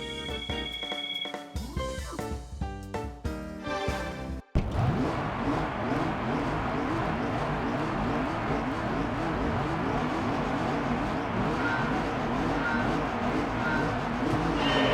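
A Honda Integra Type R in Gran Turismo 3 revs through quick gear changes, then settles into a sustained, loud racing engine wail with wavering pitch, close and continuous.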